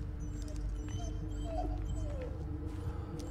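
A dog whimpers in short, soft yips inside the horror video game Blair Witch, set against a steady low droning game ambience. The cries are faint and intermittent.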